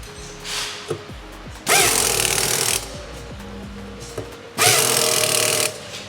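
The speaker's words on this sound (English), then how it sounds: "they're using Loctite and also a air impact torque wrench" An air impact torque wrench fits sprockets and discs onto e-bike wheels in an E-RIDE PRO factory in China, firing two loud, rattling bursts of about a second each over quieter clanks and workshop noise.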